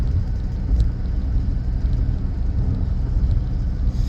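A car driving on the road gives a steady, close low rumble of engine and tyres, with a constant whirring drone and no talk throughout.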